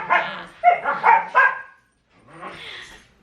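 Dogs barking outdoors: a series of close, loud barks in quick succession, a short pause, then a softer whining bark.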